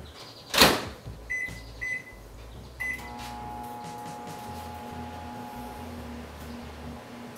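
A door clunk and a few short beeps, then a steady low hum with a faint whine as a microwave oven runs.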